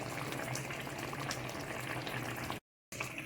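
Sardine thoran made with grated coconut simmering in a pan, giving a steady low bubbling and sizzle as the water cooks off, continuous and close with a brief break near the end.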